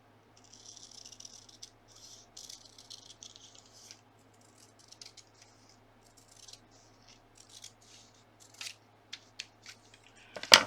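Old, worn scissors snip through paper in close, quiet, uneven bursts of crisp cuts, spaced out with pauses and ending in a sharper clack.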